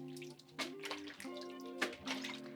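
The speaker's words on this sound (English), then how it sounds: "we're gonna do a little wash, some cold water, just to get any dirt off if there's any in here" Cut bok choy is swished in cold water in a colander, with close splashing, dripping and sloshing that rises in small surges, alongside faint tonal ringing, with no talking.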